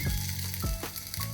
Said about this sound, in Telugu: ఇప్పుడు మనము పెరుగన్నానికి తాలింపు పెట్టుకున్నాం.